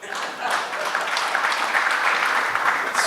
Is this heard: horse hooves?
no